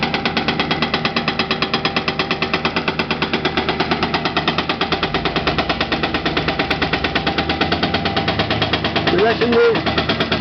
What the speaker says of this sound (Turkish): iki araç çalışıyor. Bir kırıcı, bir kepçe.